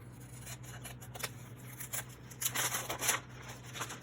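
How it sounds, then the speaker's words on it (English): Scissors trim the edge of a paper security envelope in a series of close, crisp snips and rustling paper cuts, some louder than others, over a steady low background hum. "I just grabbed a security envelope that I'm gonna need to trim off here."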